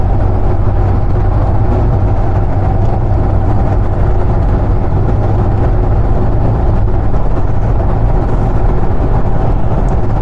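Steady, loud drone of a 1979 VW Bay Window camper's air-cooled engine while cruising at speed, a dense low rumble with road and wind noise throughout and no pauses.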